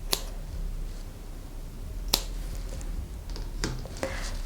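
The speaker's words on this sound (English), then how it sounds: "go to the opposite end of our length of thread and cut all of those loops" Sharp scissor snips cutting through loops of embroidery floss, a few crisp isolated clicks spaced irregularly against a quiet background.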